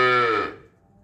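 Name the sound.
cattle mooing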